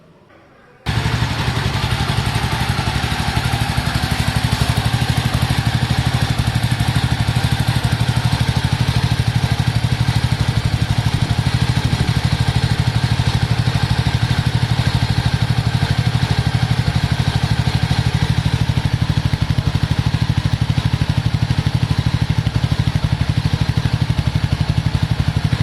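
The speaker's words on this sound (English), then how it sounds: "Let me just turn on the engine." A four-stroke motorcycle engine fires up after a second of quiet and settles into a steady, loud idle with a constant low rumble and mechanical clatter, running alone with no talk for the rest of the time.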